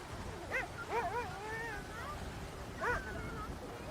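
Husky sled dogs, a mix of Inuit and Canadian Eskimo dogs, give short whimpers and yelping whines in a few rising bursts, moderately close against a steady outdoor background.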